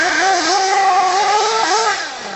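The electric motor of a Kyosho Inferno NEO Race Spec RC buggy whines loud and close as it climbs a hill on a farm, pitch wavering with throttle and then easing off near the end.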